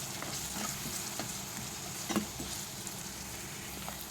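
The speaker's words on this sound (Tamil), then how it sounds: "கொஞ்சமாக நல்லா மிக்ஸ் பண்ணி கொடுத்துருங்க. ரொம்ப வதங்க வேணாம், மீடியமாக வதங்கினா போதும்." Curry leaves and coriander sauté in a pan for squid gravy, a steady moderate sizzle near at hand with occasional soft stirring knocks and no talking.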